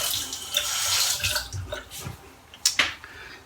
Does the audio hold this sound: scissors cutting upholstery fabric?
no